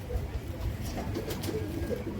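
Pigeons in a pigeon loft cooing softly and continuously, close by, mixed with low rustling and background noise.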